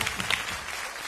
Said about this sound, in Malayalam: എന്തായാലും ആ 4 ചേട്ടന്മാർക്ക് ഒരു ഗംഭീര കൈയടി.